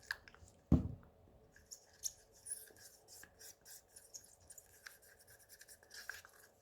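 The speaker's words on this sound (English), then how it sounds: "Let's get a little bit of my metho in there, just a little bit, just to stir it" Stirring mica pigment into a little methylated spirits in a squeeze bottle gives a quiet, wet squishing and scraping, with one brief louder clunk near the start and soft intermittent rubs and ticks after it.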